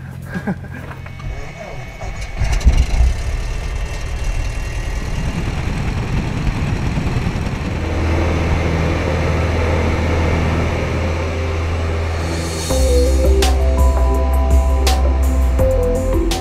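A small private plane's engine drones steadily from takeoff near Angeles, Pampanga, on a flight toward Mount Pinatubo. The deep hum holds constant, then grows louder and fuller partway through.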